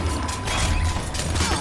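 A weapon is reloaded in Half-Life 2 VR: a short run of mechanical clicks and ratcheting clacks, close and moderately loud against steady game noise, with no talk.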